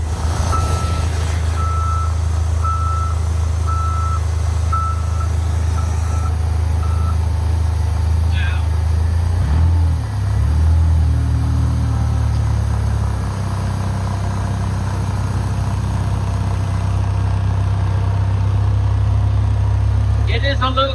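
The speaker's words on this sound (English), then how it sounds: "I'm glad I have the new forklift." A new forklift rumbles at a low, steady engine drone while its reversing alarm beeps in an evenly spaced series, loud and close, with brief voices in the background.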